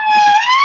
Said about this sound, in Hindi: ये एम्बुलेंस है, कहीं कॉल है मरीज की है